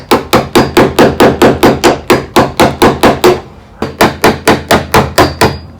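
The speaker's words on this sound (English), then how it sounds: "it's almost just better off to just hammer it off" Rust hammered off the metal of an old Alfa Romeo Spider under restoration, with loud, close, sharp metallic blows in a fast, steady rhythm, about twenty of them, a brief pause, then another run of strikes.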